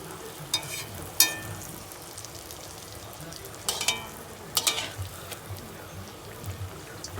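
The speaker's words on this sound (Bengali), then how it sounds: "এবার আমরা একটা একটা করে এইতে গুড় পেটে ভালো করে ভেজে নেব।" Palm fritters (taler bora) frying in oil in a pan, with a soft continuous sizzle and a few sharp clinks and scrapes as pieces are added and turned, fairly quiet throughout.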